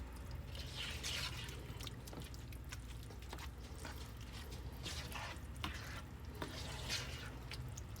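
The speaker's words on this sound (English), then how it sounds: "I'm gonna go ahead and stir this up good" Faint, close scraping and wet clicks of a spoon stirring stewed okra and tomatoes in a pot, soft irregular strokes over a low background hum.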